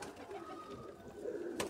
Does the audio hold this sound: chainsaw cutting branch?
no